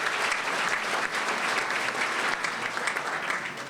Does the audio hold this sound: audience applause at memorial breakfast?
yes